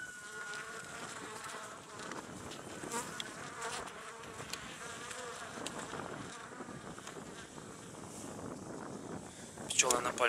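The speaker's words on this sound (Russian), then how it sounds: "Пчелы напали на камеру." Honey bees swarming close around a camera held at an open hive, a dense continuous buzz with faint handling noise and a sharp rise in buzzing near the end.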